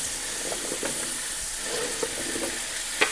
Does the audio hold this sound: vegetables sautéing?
yes